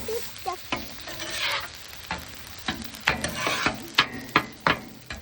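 Sauce hits sizzling hibachi noodles and rice on a hot griddle, a steady frying hiss with stirring and scraping, then a run of sharp spatula taps near the end, close and moderately loud with no talk.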